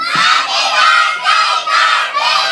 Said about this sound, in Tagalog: Let's shout! Happy birthday, Kirby!